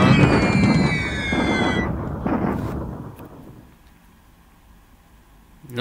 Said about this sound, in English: I bombard now here this airfield of